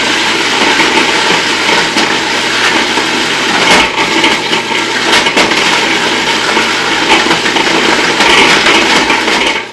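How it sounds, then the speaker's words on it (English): A food processor grinding pesto ingredients with cheese added, a loud, continuous whirring motor roar that churns steadily for the whole stretch, close up and alone without talk. "I am going to put that in with the food processor run. So I'm grinding it up"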